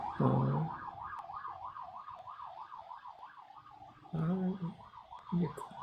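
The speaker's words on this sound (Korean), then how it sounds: "구급차가 지나가네요." An ambulance siren wails in a steady rising-and-falling pattern throughout, moderately close, while someone talks intermittently over it.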